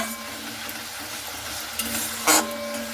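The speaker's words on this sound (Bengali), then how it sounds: "চিনিটা দিয়ে হালকা করে এভাবে একটু নাড়াচাড়া করে নিচ্ছি।" Spice masala being stirred with sugar in a frying pan for a ridge gourd fish dish, a soft continuous sizzle with light scraping and a sharper clink of the utensil against the pan near the end.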